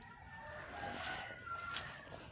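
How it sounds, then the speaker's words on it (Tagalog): Chickens outdoors on a farm among tamarind and mango trees, giving faint, distant clucks and a brief crowing call over steady background noise. "Ang dami pa ng mga manok niya doon oh."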